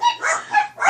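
Dogs barking at close range in a short, loud burst of several overlapping barks and yips, with no talk over them.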